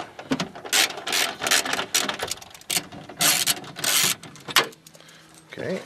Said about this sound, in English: Now we're going to take out the mounting screws.